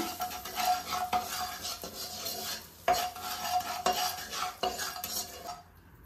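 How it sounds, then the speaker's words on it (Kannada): A utensil stirs and scrapes a seasoning mixture in a pan over a low flame for puri oggarane, with close, continuous scraping strokes and faint sizzling throughout, fading out at the end. "ಈಗ ಕಮ್ಮಿ ಉರಿಯಲ್ಲಿ, ಉರಿ ಜಾಸ್ತಿ ಮಾಡ್ಕೊಬೇಡಿ, ನೀಟಾಗಿ ಎಲ್ಲ ಮಿಕ್ಸ್ ಮಾಡೋಣ"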